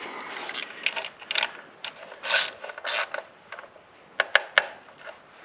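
A bolt is fitted and tightened on a Mitsubishi Outlander Sport engine during a spark plug change, giving a run of close, irregular metallic clicks, scrapes and ratcheting bursts with short pauses between them.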